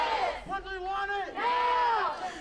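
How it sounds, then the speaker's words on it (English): A growing crowd of protesters shouts outdoors at night in Portland, with loud, sustained overlapping yells and drawn-out cries that rise and fall for the whole stretch, close and dense. "And that crowd is growing, so I think police will have to come tell them to shut up a little bit."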